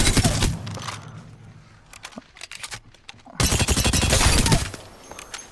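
Bursts of rapid automatic fire from the Volta SMG in Apex Legends, loud and close, with one long stream at the start, scattered shots in the middle and another dense burst near the end.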